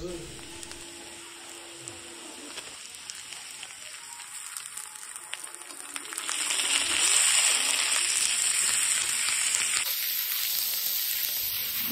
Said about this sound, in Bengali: পেঁয়াজ বাটাটা আমি হালকা ভেজে নিয়েছি